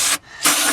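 An aerosol can sprays a rear differential cover after the gasket is removed: a loud close hiss, cut by a brief pause, then a second sustained blast.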